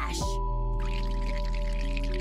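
A water spell in a video game gives off a short splashy pour at the start, then a low sustained tonal drone with faint watery texture, with no speech over it.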